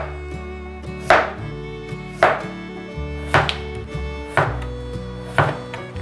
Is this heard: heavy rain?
no